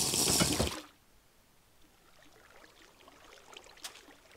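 A player character plunges into water in a video game, a loud splash lasting under a second before the sound drops to a hushed, faintly bubbling underwater ambience.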